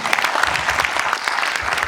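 Brief burst of dense audience clapping from a crowd at a French-language live event, steady and fairly loud for about two seconds.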